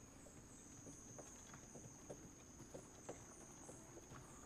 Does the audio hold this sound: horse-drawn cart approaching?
yes